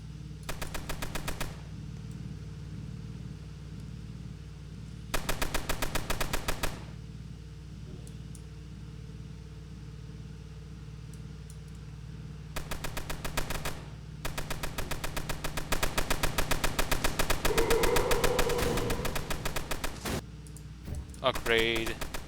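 Mounted gunners fire machine guns in a Tower Battles game, sounding as loud rapid bursts that come and go, with several longer stretches of sustained fire over a steady low game hum.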